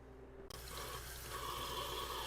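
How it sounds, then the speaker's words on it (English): Cold tap water running over homemade butter being rinsed, starting abruptly and continuing as a steady close splashing stream. "I'm going to rinse it under cold water."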